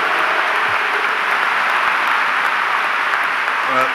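An audience of military cadets applauds steadily after a speech by the Secretary of Defense at VMI, a dense, even patter of clapping from many people that holds at a constant level without pause.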